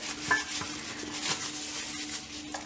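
Eggs and sugar being beaten together with a hand beater in a bowl for an almond cake, a continuous close, rhythmic whisking and scraping with faint clinks against the bowl, no talking.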